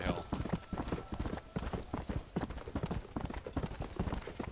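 Horse hooves clip-clop steadily at a riding pace in the Western game Red Dead Redemption, a close, rhythmic trot running the whole time with no speech over it.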